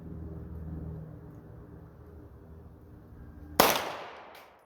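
A single sharp pistol shot from a PSA Dagger with a non-ported barrel firing Fiocchi 124 grain ammunition cracks loudly and close, then decays quickly after a stretch of low rumbling background.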